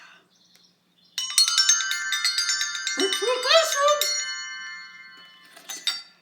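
A bell is spun and rung indoors, giving a bright sustained ringing with stacked metallic tones, followed by a brief second ring near the end, with a voice speaking briefly under it.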